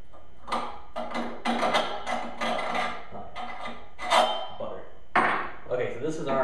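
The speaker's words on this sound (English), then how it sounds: "So I'm going to put this bolt in here and we'll go from there." A metal bolt is worked into holes drilled in the end of a metal pipe that forms a jib arm handle, giving a run of close scraping, clinking and rubbing bursts with a few sharper knocks.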